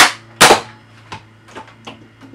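A Nerf Mega Rotofury toy blaster slam fires in quick succession: one loud sharp pop near the start, then several fainter snapping shots with mechanical clicks in a quiet room.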